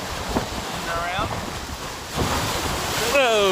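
Rough sea at high tide at Southend-on-Sea, waves splashing against the shore amid gusting wind noise on the microphone, with voices talking over it.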